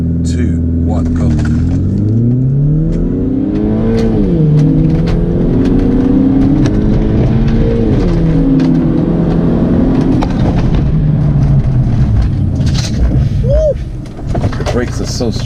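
BMW 1 Series E88 120i M Sport launching hard from a standstill in manual shift mode on a clear road, engine revving steadily with rising and falling pitch through gear changes, loud and sustained, with a person talking over it.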